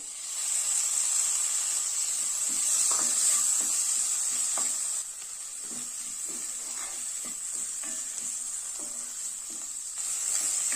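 Chopped tomato sautéing in a hot pan of masala curry for an Onam sadhya, with a steady hissing sizzle and faint, irregular scrapes of stirring throughout, and no voices.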